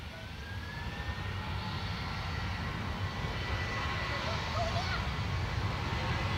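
An airliner rolls down the runway for takeoff at Dublin Airport, a steady, moderately loud engine roar with a faint rising whine, heard from a distance without a clear peak, under background talk.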